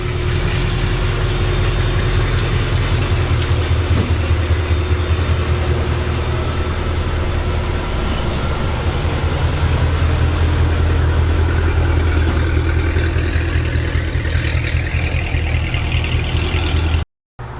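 A supercharged Hemi car engine with a Procharger, cam and E85 tune idles steadily and loud up close, a deep continuous rumble that holds for most of the clip before cutting off abruptly near the end.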